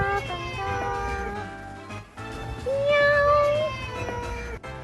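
Cats meow loudly and repeatedly at an entrance in Jeju in autumn, long drawn-out cries overlapping one another close by with hardly a pause.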